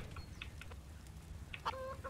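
A chicken clucks in the video game Counter-Strike: Global Offensive, a few short, faint clucks scattered over low game background noise, with a brighter squawk near the end.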